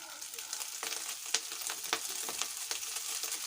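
Basmati rice and browned cashews fry in hot ghee, a steady bright sizzle broken by soft scraping stirs.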